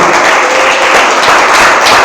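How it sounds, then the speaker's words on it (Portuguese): A church congregation breaks into loud, dense applause, a roaring mass of clapping mixed with crowd noise that stays at a constant level throughout. "Vamos aplaudir nosso Deus"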